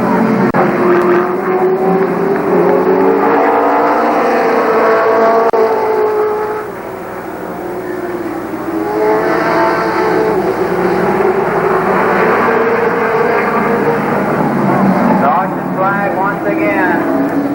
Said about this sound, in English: Green flag flies and we are racing once again. Let's listen to the cars.